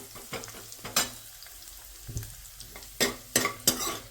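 A tempering of asafoetida, garlic, ginger and cumin frying in a pan for dal, a quiet crackling sizzle punctuated by several sharp clinks and scrapes of a spoon against the pan, no speech.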